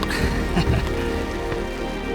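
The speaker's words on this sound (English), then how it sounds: "The rains have opened" Rain falls steadily on the MacLehose Trail in Hong Kong, a dense close patter of drops hitting surfaces with a few sharper splashes near the start.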